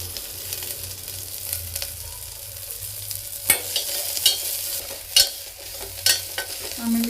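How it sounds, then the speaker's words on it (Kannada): Ginger garlic paste goes into hot oil with veg biryani masala, giving a steady soft sizzle punctuated by sharp scraping stirs of a spoon against the pan, close and clear with no talking. "ಆಮೇಲೆ ಇದಕ್ಕೆ ನಾನು ಮನೆಯಲ್ಲೇ ಫ್ರೆಶ್ ಆಗಿ ರೆಡಿ ಮಾಡ್ಕೊಂಡಿರೋ ಶುಂಠಿ ಬೆಳ್ಳುಳ್ಳಿ ಪೇಸ್ಟ್ನ ಹಾಕ್ತಾ ಇದ್ದೀನಿ."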